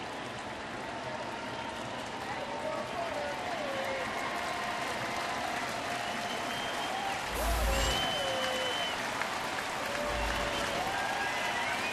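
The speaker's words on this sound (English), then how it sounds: "Crowd trying to help out Benoit." A large baseball stadium crowd of about 39,000 at a 2013 Angels at Tigers game in Detroit applauds and cheers in a continuous roar, with announcers talking over it and a louder surge near the end.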